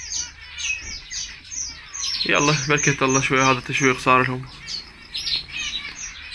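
Caged canaries chirp and squawk in bright, repeated calls, with a burst of fuller rapid song in the middle, heard close and over someone talking.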